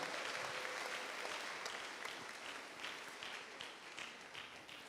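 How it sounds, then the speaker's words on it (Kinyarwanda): A church worship congregation in Kimisagara, Rwanda applauds continuously, a dense wash of clapping that slowly fades slightly over several seconds. "A round of applause to God."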